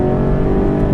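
An Alfa Romeo 8C Competizione engine holding a loud, steady roar for a brief moment, up close and with no other sounds.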